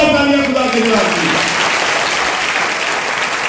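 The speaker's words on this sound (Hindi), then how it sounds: "जोरदार तालियां खुदा के लिए।" Loud sustained applause from a crowd at a prayer festival, dense clapping throughout while a voice speaks over the opening moment.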